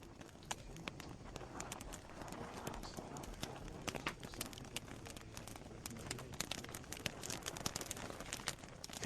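Donkeys' hooves clop and scuff steadily over rough, uneven mountain terrain in Shangla, with a dense run of quiet, close steps and no voices.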